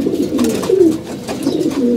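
Pigeons coo in a steady, low, rolling murmur that runs unbroken through the stretch, close and fairly loud, with no talking over them.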